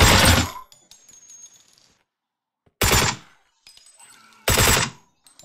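Gunfire in the Deathly Stillness game: three loud, separate bursts of shots, each a couple of seconds apart, with quiet game ambience and faint clinks between them.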